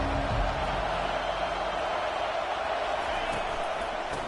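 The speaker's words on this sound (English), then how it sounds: "This crowd bringing the energy and noise early." Dense, steady roar of a large stadium crowd at a Texas versus Alabama football game, loud and continuous throughout with no distinct voices standing out.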